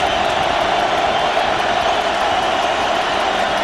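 Stadium crowd of Boise State fans at the 2010 Fiesta Bowl football game against TCU, a dense, steady roar that stays loud and unbroken throughout.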